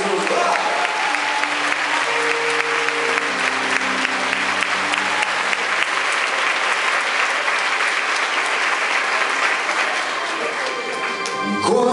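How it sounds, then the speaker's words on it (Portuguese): A large church congregation applauds loudly and steadily, a dense wash of clapping with cheering and voices mixed in, holding strong for about ten seconds before easing slightly at the end. "dá uma linda salva de asas para Jesus"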